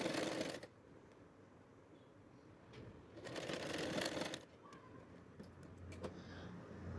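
Sewing machine stitching a pocket into the waistband of a salwar, running in two close bursts of rapid mechanical whirring separated by quieter pauses with small clicks.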